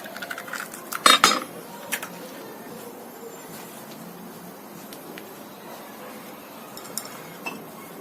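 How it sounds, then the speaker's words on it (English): An egg beaten in a bowl with a utensil, in a Chinese restaurant-style egg noodle kitchen; a sharp burst of clinks near the start, then sparse, quieter taps and scrapes over a steady background hiss. "Just going to beat the egg."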